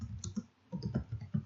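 Brief run of quick clicks as code is typed on a computer keyboard, a few close, light keystrokes in an uneven rhythm.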